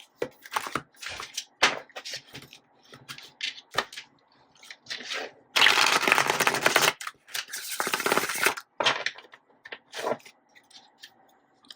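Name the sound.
shuffling tarot cards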